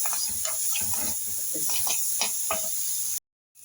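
Chopped onion softening gently in oil in a pan for a moussaka breakfast dish, giving a steady soft sizzle and hiss with occasional spoon scrapes, close up and alone, cutting off abruptly near the end.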